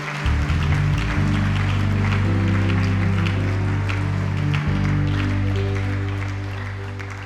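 A church congregation applauds at a Sunday service, a dense, sustained wash of clapping mixed with loud keyboard and bass music throughout.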